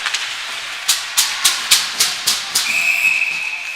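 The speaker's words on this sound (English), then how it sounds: "They'll whistled out on this play" A referee's shrill whistle blows one sustained blast after a run of sharp, evenly spaced clacks, with crowd and arena noise in the background, at an under-16 ice hockey game, calling a penalty.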